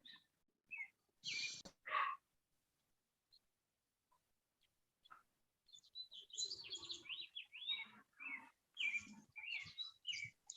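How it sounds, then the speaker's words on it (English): Small birds chirp and tweet in short, faint bursts: a couple of quick calls early on, then a busier run of high twittering notes toward the end, with quiet gaps between. "Nice bird sound."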